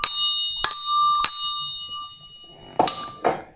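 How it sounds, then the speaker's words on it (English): The stock market's opening bell is struck three times at an even, unhurried pace, each ring sustaining clearly, followed by two duller metallic clangs near the end. "Just one solid bell."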